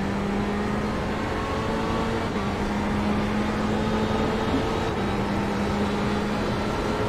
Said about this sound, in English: We got the real tight pack of 4 cars all over each other.